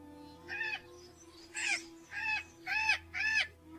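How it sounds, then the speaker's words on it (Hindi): A black cat meows five times in short, wavering cries with pauses between them, close and clear over a low background hum. "पास ही अंधेरे में एक काली बिल्ली म्याऊं करके गुजर जाती है"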